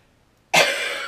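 A single sharp cough from someone with a summer cold bursts out suddenly after silence, then trails off in a harsh, breathy tail.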